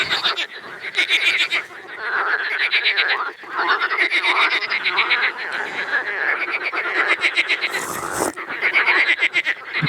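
Many frogs croak at night beside the Algeti river, a dense, close, continuous chorus of rapid rhythmic calls with no speech.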